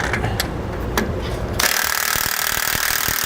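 A socket wrench with an 1 1/8" socket loosens tight, rusty U-bolt nuts on the leaf spring and rear axle of a 2015 Thor RV, giving a rapid ratcheting clatter after a brief rumbling lead-in, close and loud.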